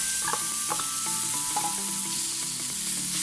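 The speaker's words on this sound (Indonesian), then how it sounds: "Sekarang semua bumbu halus kita tumis" Ground spice paste for Manado-style ayam woku sautéing in a pan, a steady close sizzle with a few soft scraping stirs and clinks, no talking.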